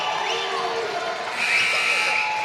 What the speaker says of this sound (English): The sparse Ottawa Hills crowd comes alive here, which sparked a response from the Tinora crowd, both trying to implore their teams on